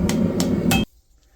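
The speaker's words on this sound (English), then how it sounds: "just smack it and let gravity do the bending for you" A hammer strikes a curved hunting knife blade during forging, giving three sharp ringing metallic blows in steady rhythm before the sound cuts off abruptly.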